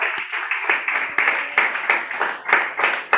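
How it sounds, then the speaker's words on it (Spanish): Rhythmic, fairly close clapping from a church congregation, steady beats at a regular pace keeping time together, with no speech over it. "Denle fuerte aplauso al Señor."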